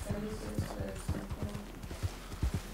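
Horse hooves clip-clop in a steady trotting rhythm in a Wild West video game, fairly close and clear with no talk over them.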